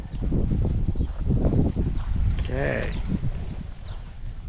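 Horses' hooves clip-clop on the ground during a horsemanship clinic at a ranch, with steady thudding steps up close and a brief spoken word partway through.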